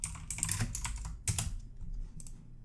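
Computer keyboard typing in a quiet room, a quick run of clicky keystrokes in clustered bursts with short pauses between them, with no voices.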